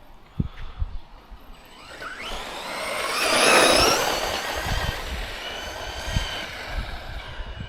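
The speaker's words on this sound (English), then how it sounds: "So that motor is definitely revving itself out." A Tekno MT410 2.0 electric RC monster truck revs its motor out: a high whine sweeps up to a loud peak and holds, with gritty wheel and chassis noise and sharp knocks underneath.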